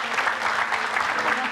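Studio audience applauding steadily on a talk show, dense even clapping that fills the whole moment without any talk over it.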